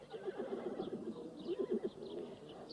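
Horses tethered at a nomadic migration camp whinny and neigh in a string of bursts, moderately close, over a soft background with faint bird calls.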